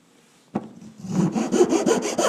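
A file or rasp rubs across the wooden body of a Pinewood Derby car, starting with a sharp knock and then settling into a steady run of rhythmic scraping strokes, close and fairly loud.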